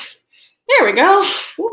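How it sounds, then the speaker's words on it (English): A single sharp sneeze from someone in the background of a home craft session for kids, with someone speaking briefly just after it. "My partner's sneezing in the background."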